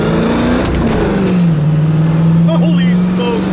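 A 1965 Pontiac LeMans GTO tribute convertible accelerates hard, its engine drone rising steadily and holding loud and close, with voices talking over it and a brief tire chirp near the end.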